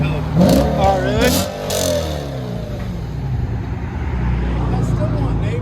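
A 2007 Audi RS4 with a 4.2L V8, dual exhaust and resonators deleted, rumbles steadily at close range after people talk over the opening seconds.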